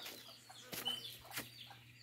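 Chickens, including small bantam galizé hens, clucking in a backyard, soft scattered clucks with a couple of sharper bursts over low steady background noise.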